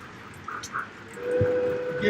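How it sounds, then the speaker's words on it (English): Model trains run nearby, a soft rumble under faint talk, and a thin steady whistle tone enters partway through and holds to the end. "what's the other train we got running around here, George?"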